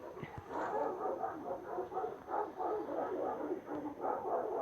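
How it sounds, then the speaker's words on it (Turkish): Several dogs bark repeatedly at another dog at a moderate distance, a steady run of overlapping barks and yips with a faint electrical hum in the background. "Ya köpekler de başka bir köpek görmüş onu havlıyorlar sabahtan beri."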